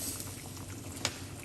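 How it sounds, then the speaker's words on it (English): Lemon water boiling in a pot on a stove after the heat is switched off: a steady, low bubbling hiss throughout, with one brief louder pop near the end and no talk. "the lemon is boiling inside of it"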